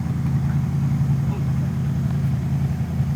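A 1966 Ford Mustang engine runs just after restarting, giving a steady, fairly loud low rumble with an even idle and no big changes in pitch, and a voice may be faintly mixed in.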